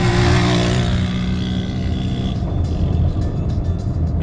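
A car engine runs steadily on a rural autumn road from Siahkal to Deylaman in Gilan, Iran, a loud, close low rumble that eases slightly partway through, with faint ticking and rattles over it and no talking.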